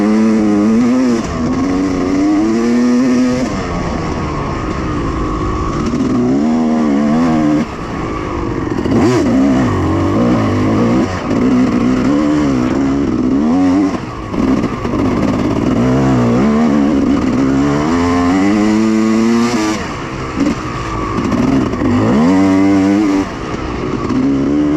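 A dirt bike screams around a sand training track, its engine revving hard and rising and falling in pitch continuously, loud and close, with short dips between bursts of throttle.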